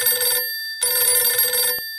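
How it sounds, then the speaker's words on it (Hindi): A telephone rings twice in two long, loud electronic bursts separated by a short gap, heard clearly with no talking over it. "खेसारी, हम अक्षरे मैडम से फोन करके पूछ लो ये।"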